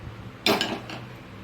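A single metallic clank as a pan is set down on a stove, short and close, followed by quiet.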